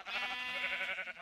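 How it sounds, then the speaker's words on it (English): One wavering bleat from a sheep in Minecraft, a steady nasal cry about a second long, heard alone at moderate volume. "I heard sheep down there."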